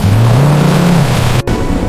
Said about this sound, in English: The sound of that engine is just incredible.